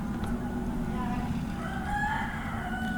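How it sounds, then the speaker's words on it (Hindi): A rooster crows in the background, its drawn-out call rising faintly over a steady low hum. "अब तो आप लोग फेमिलियर हो चुके होंगे इस मुर्गे की आवाज़ से।"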